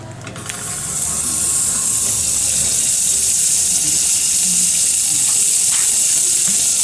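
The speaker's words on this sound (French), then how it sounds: "Dans la casserole, je mets un peu du beurre." Steady sizzling hiss builds in the first second and then holds loud and even, like butter melting and frying in a hot saucepan, with no talking.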